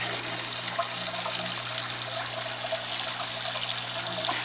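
Water pumped up through a small home aquaponics system trickles and splashes out steadily, a close, continuous watery flow over a low mechanical hum.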